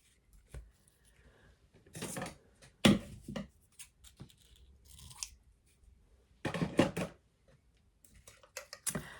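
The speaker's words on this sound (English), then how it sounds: "You can always trim the ribbon down." Scissors snip through gift-wrap ribbon on a stamped paper gift card holder, giving a few separate crisp cuts with quiet pauses between them, close and alone with no talk.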